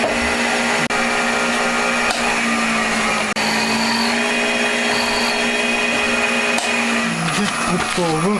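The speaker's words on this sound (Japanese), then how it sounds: "穴開けをやっていきます。プラグホールが原点となるので、プラグホールから先開けていきます" Drilling holes in a homemade cast DOHC cylinder head for an FIM152 engine gives a loud, steady machine whine with a grinding edge that runs throughout, and its pitch wavers and drops near the end.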